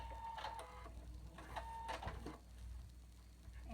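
A sewing machine stitches a batwing mask in short bursts of fast mechanical whirring, pausing between runs, close and moderately quiet.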